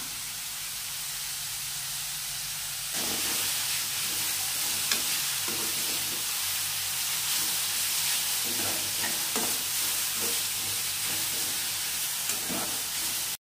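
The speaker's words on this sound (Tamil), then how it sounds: "காயெல்லாம் சேர்த்து ஒரு 5 நிமிஷம் வதக்கினா போதும்" Mixed vegetables sauté with spices in a pan, a steady sizzle that jumps louder partway through as more goes in, with repeated stirring scrapes and taps from a spoon.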